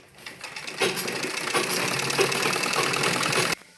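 A sewing machine stitches along the folded edge of a baby dress, a fast continuous mechanical whir for about three seconds that stops abruptly, close and fairly loud with no talking.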